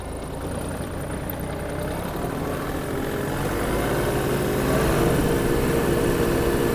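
A Mitsubishi GOZ-32 Japanese mini tractor with a turbocharged engine drives and accelerates, its steady droning engine note climbing gradually in pitch and loudness, heard close with no talk.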